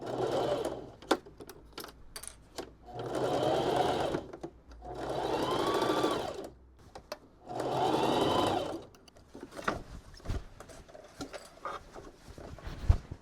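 A sewing machine stitches a custom fabric mermaid tail in three distinct whirring runs of a couple of seconds each, close and clear, separated by quiet pauses with light clicks and handling noises.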